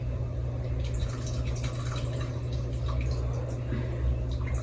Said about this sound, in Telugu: చూడండి, కొంచెం వాటర్ పోసుకున్నాను.